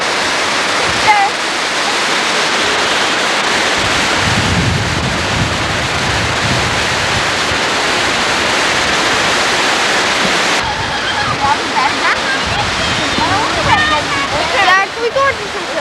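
Rapids on the Sydenham River near Owen Sound roar in a loud, continuous rush of churning water, with wind buffeting the microphone and birds chirping faintly in the second half.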